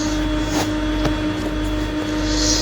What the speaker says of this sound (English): Now, he's starting his engines.